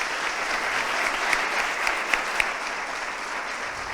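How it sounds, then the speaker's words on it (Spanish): Hall audience at a political conference gives a strong round of applause for a speaker, dense and continuous clapping with a few sharp individual claps rising out of the wash. "un fuerte aplauso también para la ponente"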